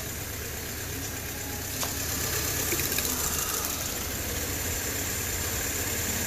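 The engine of a 2005 Mini Cooper with a cylinder 3 misfire runs steadily during a cylinder drop test, giving a continuous idling drone with uneven knocking pulses, heard up close with no talk.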